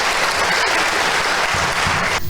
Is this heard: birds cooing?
no